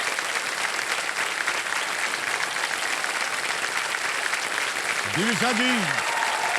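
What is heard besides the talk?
studio audience applause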